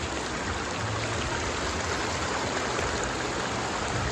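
Water of a stream rushes steadily over rocks, a continuous broadband wash that stays loud and even throughout, with no voices.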